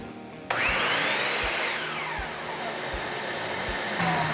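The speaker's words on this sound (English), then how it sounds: "by triggering the tool, the vacuum will come on as well" A shop vacuum connected through an O'SKOOL auto switch kicks on abruptly when a power tool is triggered, then roars loudly and steadily alongside the tool's whirring tone, which slides downward partway through.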